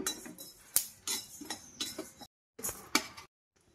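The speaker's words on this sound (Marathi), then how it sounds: "खमंग मसाला भाजून घ्यायचा सगळा, म्हणजे चवीला छान लागतो मसाला।" Fennel seeds and masala are dry-roasted in a pan while a metal spoon stirs them. Soft, uneven scrapes and clinks come in short bursts separated by brief silences, quiet and close, with no speech.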